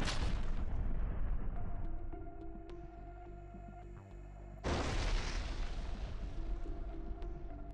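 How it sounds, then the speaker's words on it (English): FAB-500 bombs strike an ammunition depot in the Sumy region: a heavy blast roars and decays over several seconds, then a second loud explosion bursts in and rumbles on, with no talk. "The Russian Air Force destroyed a Ukrainian Armed Forces ammunition depot in the Sumy region with FAB-500 bombs."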